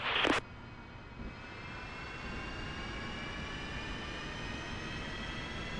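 An F-5E jet engine spools up toward idle in DCS, a steady rising whine and turbine hum building gradually after a brief click.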